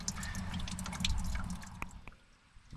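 Water trickles and drips steadily as it drains from a Farmall 300 Utility tractor, with a low gurgling flow and scattered splashy drops.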